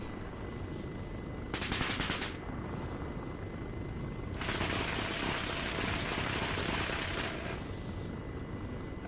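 Machine gun fire heard in a helicopter combat video game, two bursts: a short rattling volley near two seconds, then a longer sustained burst of about three seconds, over a constant low engine drone.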